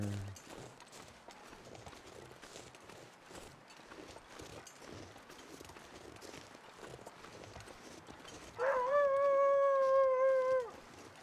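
Wolves howl in a video game, a single loud, sustained howl with clear harmonics rising near the end after a stretch of softer background rustle and footsteps.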